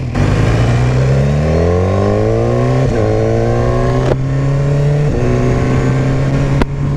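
BMW S1000R motorcycle fitted with an Akrapovic exhaust accelerating hard, loud and close, its engine note climbing through the gears with brief dips at each quick upshift.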